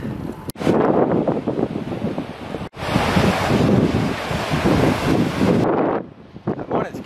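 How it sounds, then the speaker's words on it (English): Strong wind buffets the microphone in loud, continuous gusts with brief dropouts while cycle touring in Taiwan, with a surf-like roar underneath. "It's pretty windy here too"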